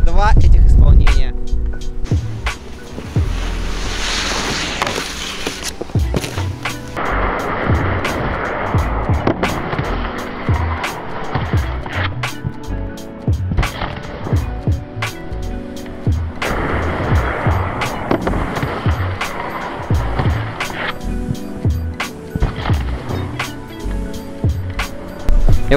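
Snowboard riding through a snow park, a continuous loud scraping and hissing of the board on snow with rough swells and grinding bursts, under a voice talking throughout.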